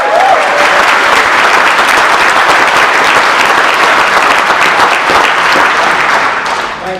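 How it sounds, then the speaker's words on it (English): Loud, sustained applause from a large crowd at a political festival in London, dense continuous clapping that holds steady throughout and only starts to thin in the final moments. "Thank you for the applause, but I know it's not the greatest thing to do."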